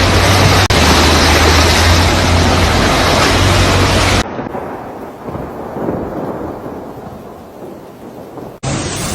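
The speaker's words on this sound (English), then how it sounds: "Thunder growls in the distance." Loud rumbling roar filling the first half, then a quieter, softer low rumble in a storm over flooded Dubai streets.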